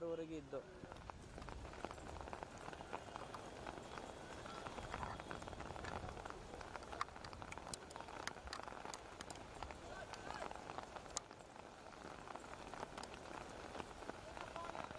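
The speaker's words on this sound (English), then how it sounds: "And it's starting to rain heavily now." Heavy rain pouring down on an outdoor football ground in Bengaluru during a youth league match, a steady dense hiss of drops hitting the surface throughout, with faint voices underneath.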